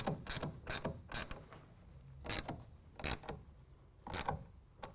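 Rail clamp being tightened down on an Access Vanish tonneau cover for a 2017 Dodge Ram 1500, a series of quiet close ratcheting clicks in short uneven bursts.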